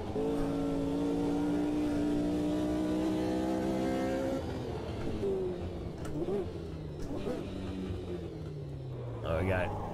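A race car in the sim racing game Automobilista 2 runs on throttle with a trick diff fitted, its engine droning with steady harmonics whose pitch shifts and falls as the car comes off the throttle, with talk over it.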